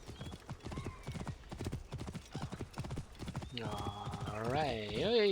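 A horse gallops in the Assassin's Creed Origins game with rapid, rhythmic hoofbeats for several seconds, then a loud voice cuts in over the fading steps near the end.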